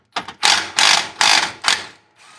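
Bolts being undone on a steering linkage during a steering sector replacement, a close series of four or five loud ratcheting wrench bursts with short pauses between them, no voices.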